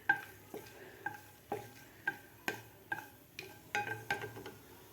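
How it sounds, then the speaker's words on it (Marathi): Cinnamon, cardamom and cloves are sautéed in ghee over low heat for Maharashtrian coconut rice (narali bhat). A spatula scrapes the pan in regular strokes, about ten in quick succession, over a faint sizzle. "हे आपल्याला तुपामध्ये थोडंसं परतून घ्यायचं आहे"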